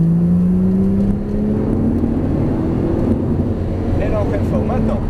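A Porsche GT3 Turbo pulls hard at full throttle, its engine note climbing steadily and loud throughout, with someone talking over it.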